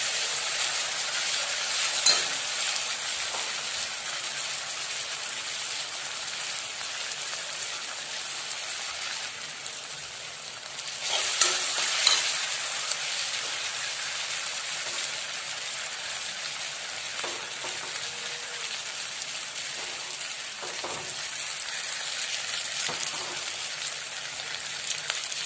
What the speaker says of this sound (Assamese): এতিয়া মই ৰাজমাহখিনি ইয়াতে ঢালি দিম।